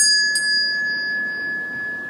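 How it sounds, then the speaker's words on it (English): A small meditation bell rings once with a soft strike, then holds a clear, steady high tone that lingers at even volume in a quiet room. "When you hear the small bell"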